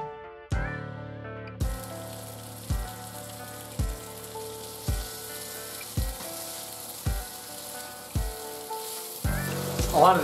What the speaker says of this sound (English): we're free to put it in the fry pan